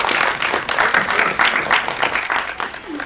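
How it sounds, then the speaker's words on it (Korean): An audience at a Korean film press screening and press conference applauds actor Min Kyung-jin, a steady wash of many hands clapping at moderate loudness for a few seconds. "우리 친구 민경진 씨한테 그럼 박수 한번 부탁드릴게요"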